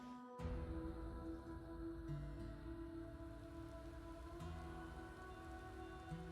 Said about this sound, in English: It's even raining to show how sad he is.